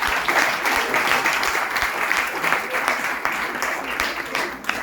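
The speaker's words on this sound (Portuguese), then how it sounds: "Você pode aplaudir a Jesus por isso?" Congregation applauding during a Portuguese-language church service, a dense, steady wash of many hands clapping at moderate loudness throughout, with a voice faintly present beneath.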